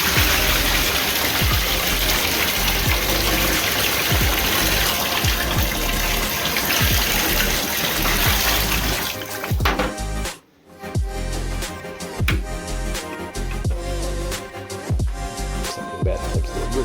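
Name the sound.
water poured out of a dehumidifier bucket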